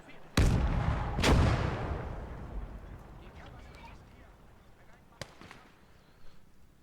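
Two heavy, close artillery blasts boom one after another, then rumble away, followed later by a sharper crack of gunfire in the World War II game Gates of Hell, with faint voices in the background.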